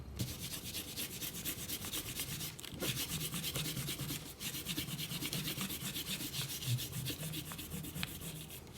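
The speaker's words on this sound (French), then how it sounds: "on peut gommer nos traits de construction" An eraser rubs out pencil construction lines on paper in a quiet, continuous scrubbing with a fast back-and-forth texture and no pauses.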